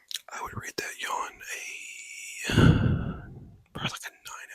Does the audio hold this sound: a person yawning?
yes